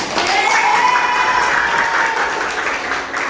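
A steady burst of clapping from a group of students in a classroom, loud and continuous for a few seconds, fading slightly at the end.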